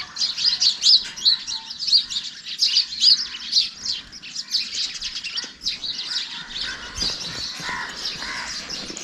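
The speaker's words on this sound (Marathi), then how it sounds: "हे बघा हे चिमण्या आहेत" Sparrows chirp and twitter busily in a village tree in the Konkan countryside, a dense chorus of close, overlapping calls that runs throughout, loudest early on and settling slightly later.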